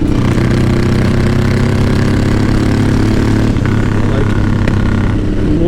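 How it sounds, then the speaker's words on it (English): A carbureted motorcycle engine running rough in the mountains drones loud and close with a steady, uneven low throb, with a faint voice beneath it. "my bike is running really rough"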